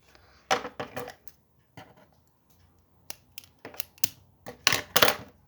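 Scissors cutting through material in a home craft setting, a series of short crisp snips in uneven bursts, close and fairly quiet with pauses between cuts.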